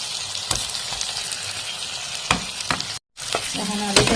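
Fried potatoes stirred in a hot pan with tomatoes, a steady close sizzle broken by sharp scrapes and clinks of the spatula, with a brief drop-out near the end.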